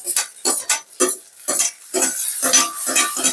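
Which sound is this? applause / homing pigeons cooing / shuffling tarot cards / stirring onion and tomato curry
stirring onion and tomato curry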